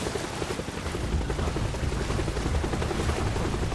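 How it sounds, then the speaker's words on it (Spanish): Steady, dense broadband roar with low throbbing rotor chop from a helicopter approaching over open sea, continuous and fairly loud throughout with no voices. "¡Un helicóptero! ¡Hay un helicóptero!"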